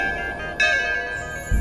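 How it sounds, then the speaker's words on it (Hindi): A bell rings with a sustained, steady metallic tone, struck again partway through so the ringing swells brighter before settling, with a low thump near the end and no talk. "तो फिर मौत री दूसरी घंटी बाजे"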